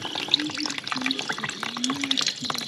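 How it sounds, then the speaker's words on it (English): Water flowing back into a home heating system during a plumbing job, a steady broadband rushing and trickling that runs throughout, with faint voice-like tones in the background. "We've got water coming back into the heating system now"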